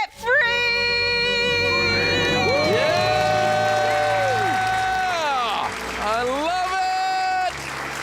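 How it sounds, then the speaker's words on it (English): A small group shouts a loud, sustained celebratory scream and cheers at a radio show, voices rising and falling together in long whoops for several seconds. "Let's hear a debt-free scream."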